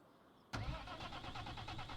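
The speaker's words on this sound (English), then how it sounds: "Okay, tractor on," A tractor engine in a logging roleplay video game cranks and catches with a sudden start, then settles into a steady, rhythmic mid-pitched idle, close and alone.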